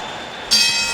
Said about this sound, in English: the bell ends the fourth round